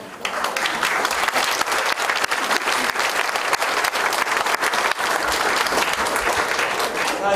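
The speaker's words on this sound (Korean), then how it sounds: "박수를 11번 정도 세게 치셔야 됩니다." At a livestock cooperative's headquarters opening ceremony, a crowd claps hard and fast in a loud, sustained burst of applause that keeps an even intensity from start to finish.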